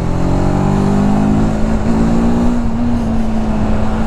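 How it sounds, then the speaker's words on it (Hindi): A TVS Apache RTR 310 motorcycle engine accelerates in a loud, close, continuous drone, its pitch rising steadily, heard alone without speech. "यार वाइब्रेशन तो काफी ज्यादा है इस बाइक के अंदर"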